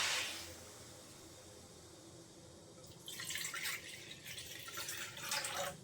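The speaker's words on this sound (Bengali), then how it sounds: "এখন আমি পানি দিয়ে দেবো।" Water pours into a pot of rice for pilaf, a faint bubbling splash starting about halfway through and continuing in uneven gushes, close and alone.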